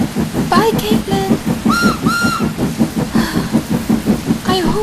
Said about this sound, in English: I hope it does stop raining.